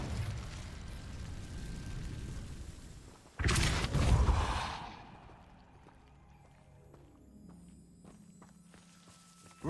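Depulso spell cast in Hogwarts Legacy: a sudden loud whooshing burst partway through, after steady footsteps and ambient noise, then fading into quieter magical chimes and tinkling tones.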